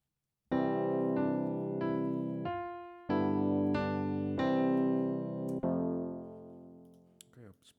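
A simple melody harmonized with only a few sustained chords, played on a keyboard-like instrument: a string of held, clean harmonic notes that change every second or so, fairly loud and steady, then decaying at the end, with no talking.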